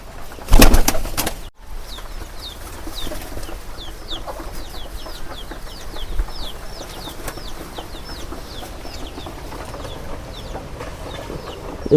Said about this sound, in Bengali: সিরাজ কবুতর একটা নিয়ে আসি আপনাদেরকে দেখাইতে আছে কবুতরটার কি সমস্যা হয়েছে